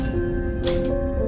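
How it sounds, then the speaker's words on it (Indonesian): A typewriter in an Indonesian horror film tapping out keys on its own, a quick run of sharp mechanical clacks over a steady low background hum, with no one speaking. "tiba-tiba saja mesin ketik itu mengetik sendirinya"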